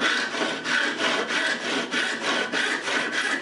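A cheap tenon saw cuts through wood in even back-and-forth strokes, roughly three per second, a close, rasping scrape with a steady rhythm and no talking.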